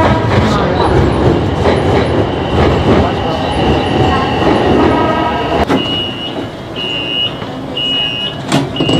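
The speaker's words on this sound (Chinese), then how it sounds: "这是一号线轻轨" An elevated Wuhan Line 1 light rail train rumbles and clatters loudly along the track, then quietens as a series of repeated electronic beeps sounds near the end, with faint voices underneath.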